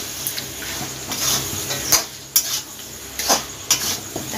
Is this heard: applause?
no